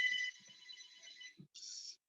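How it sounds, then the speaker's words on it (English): A phone alarm rings in two electronic bursts, a longer sustained tone followed by a short pause and a second shorter burst, with faint low rustling between them and no talk. "Someone's alarm's going off?"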